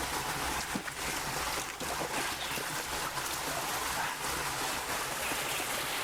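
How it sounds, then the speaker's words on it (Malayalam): Water streaming down from above inside a jungle cave, a constant broad rushing wash that stays loud and steady with no break and no voices. "ഇത് മേളിൽ നിന്ന് ഒഴുകി വരുന്ന വെള്ളമാണ്."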